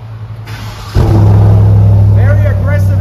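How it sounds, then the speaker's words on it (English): A Chevrolet Silverado 1500 RST pickup fires its aggressive exhaust, a sudden loud rumbling rev that holds steady after a quieter idle, with someone talking over it. "very aggressive exhaust"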